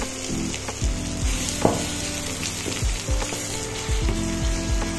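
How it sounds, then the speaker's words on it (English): Chopped scallion, garlic and onion saute in a hot pan for Jamaican brown stew chicken, crackling with a loud, continuous sizzle broken by repeated scrapes of a stirring spoon, close up with no voices. "Next, I'm adding chopped scallion, garlic and onion to stop the browning and get a good saute on the veggies."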